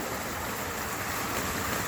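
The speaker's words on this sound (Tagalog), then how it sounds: "Ayan, tubig. Parang fountain." Continuous rushing water like a fountain, a steady dense hiss and roar with no breaks.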